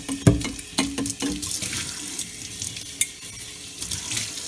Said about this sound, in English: We take this one and put it through the soap water, and we rinse it. Here, let me slosh it around.